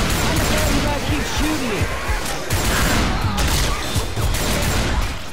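Rapid bursts of gunfire crackle through a cooperative video game session, dense and continuous, while players talk over the shooting.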